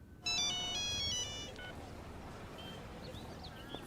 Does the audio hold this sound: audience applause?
no